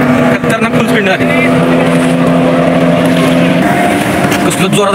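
A motorboat speeds across the sea off Devbag near Malvan, its engine a loud, steady roar with a droning tone throughout, rushing wind and water noise mixed in.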